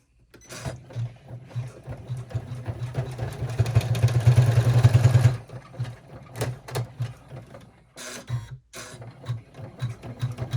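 An embroidery machine stitches a mini rucksack backpack in the hoop, its needle hammering in a steady mechanical whir that grows louder and denser midway, then continues in shorter bursts with brief pauses.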